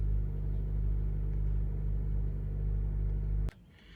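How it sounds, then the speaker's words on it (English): A 2017 Honda CR-V engine idles roughly with a steady low rumble and a faint uneven pulse, close and constant, then abruptly cuts to near silence at the end. "I can feel a slight rough idle through the brake pedal."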